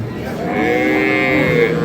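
A single long, loud moo from a dairy cow swells and holds for over a second, close by, over a faint background of crowd noise at a cattle market.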